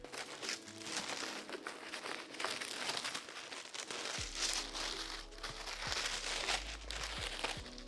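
Logo-printed wrapping paper crinkles and rustles up close while Christian Louboutin high heels are unboxed, a continuous crisp handling noise with a low hum coming in partway through.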